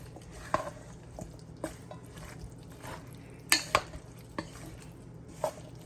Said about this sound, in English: Mix everything together. As you're mixing it, the pumpkin will, will kind of smush it.